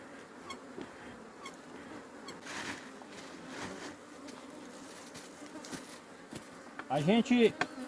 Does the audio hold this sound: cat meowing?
no